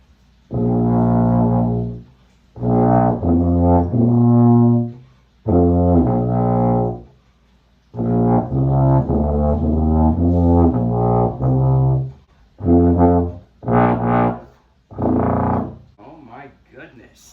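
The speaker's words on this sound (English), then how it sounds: "First notes on the Schiller tuba." A brand-new Schiller American Heritage BBb tuba plays its first notes, loud and close: a series of sustained low, buzzy tones in short phrases with brief pauses between, ending with a few shorter notes.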